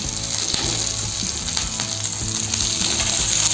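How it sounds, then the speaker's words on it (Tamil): Chopped tomato sautéing in a hot pan for a peanut chutney gives a loud, continuous close-up sizzle with faint stirring scrapes throughout and no voices. "தக்காளி கொஞ்சம் நல்லா வதங்கி வரணும்."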